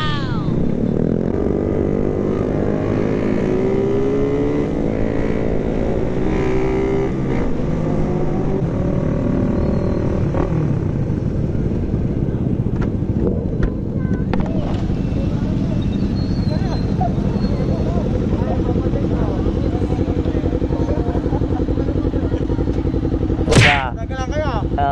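A 10R motorcycle engine drones and revs nearby for a long stretch, rising and falling in pitch while a rough, rumbling idle runs underneath. Voices talk over the engine sound at a shop opening, and a sharp snap comes near the end.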